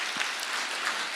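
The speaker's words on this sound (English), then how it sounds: "please give her a wonderful round of applause" A conference audience applauds after a presentation, a short burst of steady, mid-level clapping that fills the hall without any voices over it.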